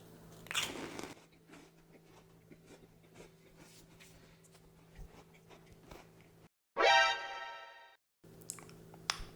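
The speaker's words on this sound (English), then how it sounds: "they are pretty crunchy, as you may be able to hear" Close, crisp crunching bites into crisp meringues with quiet chewing between them, ending in a loud sharp crunch and another bite.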